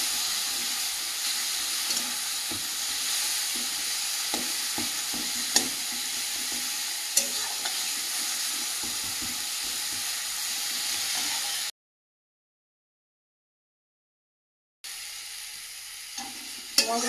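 Masala spice paste fries in a pan with a splash of water, making a loud, continuous hissing sizzle with a few faint scrapes. It cuts to silence for about three seconds, then the sizzling resumes.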